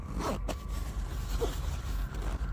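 A double zipper on a large backpack is pulled open in a couple of quick, close rasping strokes over a low outdoor background rumble.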